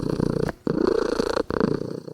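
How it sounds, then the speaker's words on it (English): An elderly cat purrs close up with a raspy, rough rumble, steady and continuous with brief breath pauses between cycles. "He's kind of got we call it kind of a smoker's purr."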